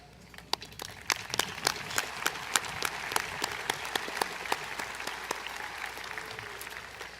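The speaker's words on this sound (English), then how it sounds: "Audience, please join me in applauding all that they do for our students" A commencement audience at a high school graduation ceremony applauds steadily, a dense wash of clapping with sharper individual claps standing out, sustained and fairly close throughout.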